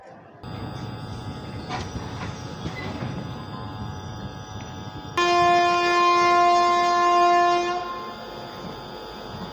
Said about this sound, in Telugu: గుడివాడ నుంచి మన ట్రైన్ స్టార్ట్ అయిపోయింది.